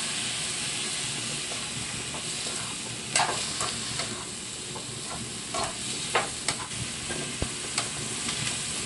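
Carrots cooking in a pan after a little broth is poured in, a steady hissing sizzle with scattered stirring clinks and scrapes, close and fairly loud, no one talking.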